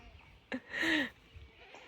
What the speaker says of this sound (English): Listen to all them goats.